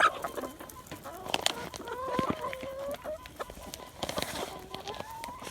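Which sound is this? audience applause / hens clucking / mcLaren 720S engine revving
hens clucking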